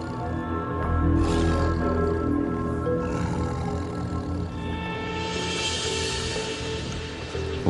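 A large tiger in India lets out a deep, drawn-out roar, loud and resonant, swelling at the start and then rumbling on in a low growling tone with no talk over it.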